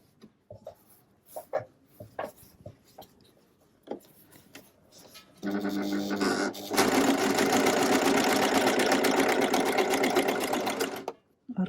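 Janome Merrylock 3000CL overlock sewing machine stitching: a few soft clicks and handling taps, then the motor runs up into a steady loud whirring rattle for about six seconds before stopping.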